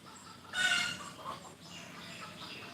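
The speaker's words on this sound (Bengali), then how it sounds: "মুরগিগুলো খুব ডিস্টার্ব করছে" Chickens give a short, loud burst of clucking, then quieter, softer clucks continue over a light background hum.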